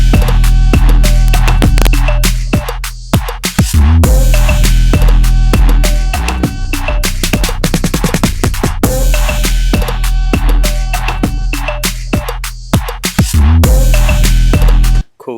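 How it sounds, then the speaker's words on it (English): A loud twerk beat drop made in FL Studio: dense, pounding drop drums over heavy bass, driving steadily with a few brief breaks and fast drum rolls. "Now we're gonna go into the drop,"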